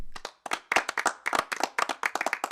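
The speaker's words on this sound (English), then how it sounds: "Let's get a round of applause to see if that's working." Canned applause and clapping from a soundboard during a crafting livestream, bursts of hand claps packed close together, loud and clear with no talking.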